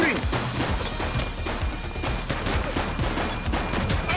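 A suspect fires at police in the video game The Precinct, a dense, fast run of loud gunshot cracks and crashing impacts packed together over a few seconds.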